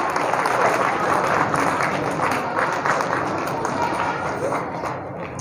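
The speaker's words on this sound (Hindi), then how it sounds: "आप सब भरपूर तालियां बजाएं" Audience applause for a school headmaster at a school event, broad continuous clapping from a crowd lasting the whole stretch, steady and fairly loud before easing slightly at the end.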